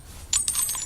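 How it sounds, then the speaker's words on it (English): A rare military gun reloading in a video game: a short burst of metallic clicks and clacks, close and clear, lasting under a second with no other sound. "That was a reload."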